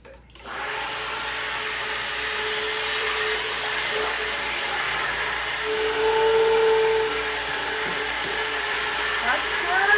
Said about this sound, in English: we are going to take our mixer and we're going to mix